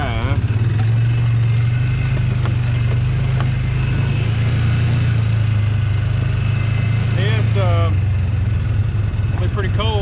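A four-wheel-drive vehicle's engine runs steadily at close range, a loud constant low drone, while someone speaks over it.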